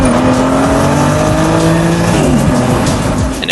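A 1994 Toyota Supra fitted with an HKS GT2835R twin turbo kit revs hard and loud, its engine note climbing and falling steadily across the short stretch with no voices.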